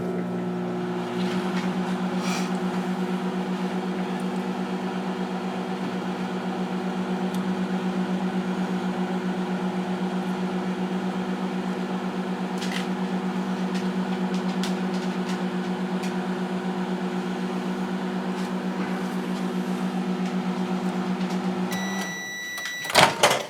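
A microwave oven heating hollandaise sauce hums steadily and close for about twenty seconds, a constant low drone, then stops with a few clicks and a short beep at the end.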